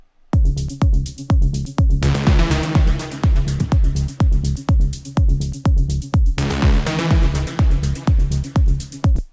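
A melodic techno loop with a punchy kick drum on a steady four-on-the-floor beat, deep bass underneath and bright hi-hats sizzling on top, loud and continuous.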